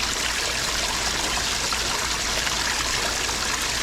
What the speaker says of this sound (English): Down the drain. Look at that water and how muddy it is.